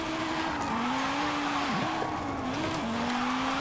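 Steady, droning engine note of a VW Golf R in the racing game Forza Horizon 5, holding a constant pitch with brief dips like gear shifts, with faint tire noise and no talk.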